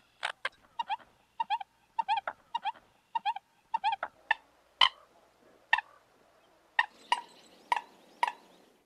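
American coot, a duck-like rail of wetlands, giving a rapid series of popping, raspy calls, clustered bursts of sharp notes followed by louder single pops, fairly close and alone.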